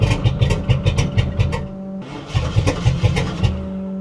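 A car engine with a dead cylinder, running roughly with rapid uneven pulses, then a short dip before a rev and a return to the same lumpy, stumbling beat, heard close.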